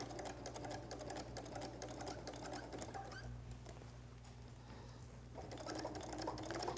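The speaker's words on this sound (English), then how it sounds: "go ahead and start stitching right there" A sewing machine stitches a quilted holiday placemat, its rapid steady needle chatter running close and continuous with a brief slowdown midway before picking back up.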